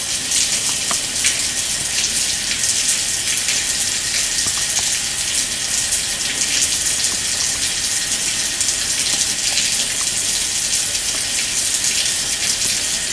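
Tap water runs steadily into a sink while hands and a nail brush are rinsed, a constant close gushing hiss with no talking.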